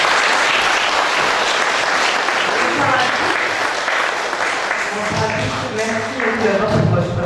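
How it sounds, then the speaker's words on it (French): A theatre audience applauds Miss Picardie at a regional beauty pageant, loud sustained clapping that fills the hall, with voices and cheers rising toward the end. "Vous pouvez l'applaudir très fort"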